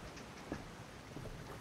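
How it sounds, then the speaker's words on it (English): Steady outdoor rain falling on a surface, a dense even hiss throughout with a few slightly louder drops near the middle, no voices. "Still raining."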